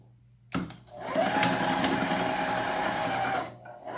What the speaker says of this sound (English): you're gonna have to sew this from the other direction